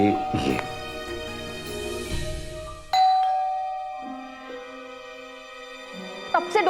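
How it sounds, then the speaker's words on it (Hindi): A two-tone doorbell chime rings out clearly, following a burst of busy background sound, then fades, with another faint chime near the end. "कब से डोरबेल बज रही है, सुनाई नहीं देता?"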